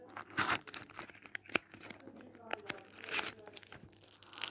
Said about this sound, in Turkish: Şöyle bir sakız var. Hemen açalım o zaman.